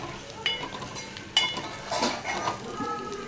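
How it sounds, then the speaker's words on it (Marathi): Sambar masala with asafoetida and a little chilli powder is sautéed and stirred in a pan. A soft, steady sizzle runs under irregular scraping and clinking spoon strokes. "त्याच्यामध्ये सांबर मसाला, हिंग, थोडंसं तिखट ॲड करून आपण व्यवस्थित सगळा मसाला परतून घेणार आहोत।"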